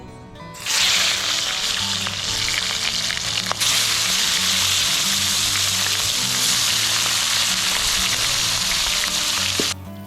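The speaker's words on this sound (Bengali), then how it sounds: "এখন আমি মাছগুলোকে ভেজে নেব" Rohu fish pieces fry in a pan in a village kitchen, a loud steady sizzle that starts abruptly and holds without a break, with a few faint low knocks underneath and no talking.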